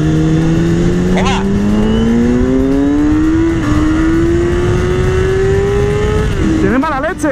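A Kawasaki Ninja motorcycle pulls hard through the gears on a road, its engine note climbing steadily in one long rising sweep, loud and close, with a shift near the end and a brief voice.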